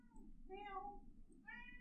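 A cat meows twice, close and fairly clear, the two calls separated by a short pause, over a low steady hum from a video game playing in the background.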